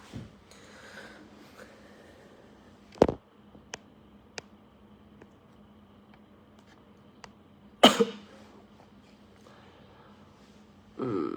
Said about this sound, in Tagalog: Inuubo rin kasi ako.